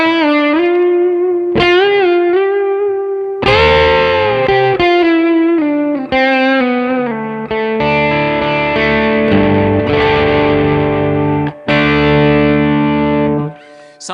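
A Telecaster's bridge pickup runs through an Xotic booster preamp pedal, playing loud, close, sustained single notes with bends, then strummed chords that ring with overdriven grit, separated by a few short pauses. No one speaks.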